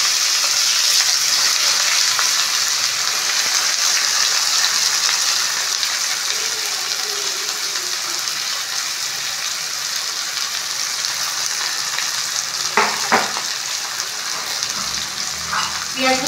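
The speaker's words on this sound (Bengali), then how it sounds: "এখন কেটে রাখা পেঁয়াজগুলো দিয়ে দেবো।" Chopped onions hit hot oil already fragrant with fried cloves and cinnamon, giving a loud, steady sizzle that holds throughout, with a few sharp clinks of a utensil near the end.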